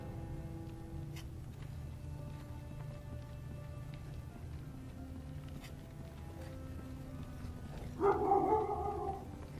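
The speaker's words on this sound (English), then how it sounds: "o dog tinha que latir" A dog barks briefly near the end of a Game of Thrones video game scene on PS4, a short loud burst over a steady rainy, droning ambient background.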